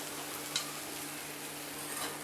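Vegetable corn aval upma being stirred in a pan: soft scraping and a faint background sizzle with a brief clink near the start, quiet and close.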